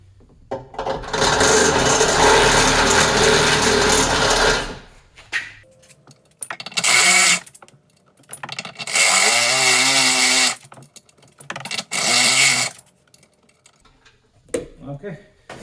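A power drill whines loudly drilling into an Audi RS4 rear bumper in several bursts, one long run followed by shorter ones, with quiet gaps and brief talking in between.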